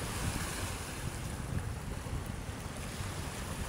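Sea waves moving on Manila Bay, a continuous soft wash and rumble of water with wind noise, steady and fairly faint with no voices.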